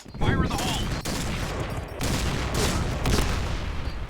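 Rapid bursts of gunfire from the shooter game Point Blank crackle in quick succession, sharp and fairly close, with a player's voice briefly heard alongside the shots.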